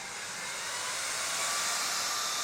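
A handheld fan rated at 15,000 RPM runs at full speed, giving a steady, loud, airy whoosh close to the microphone that swells slightly and holds without a break.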